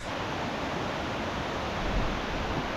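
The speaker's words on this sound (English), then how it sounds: "Let's see if I can find this bloody waterfall now." Steady, dense rushing of Wankaroo Falls in the jungle, a constant broadband roar with no breaks, fairly close and filling the whole scene.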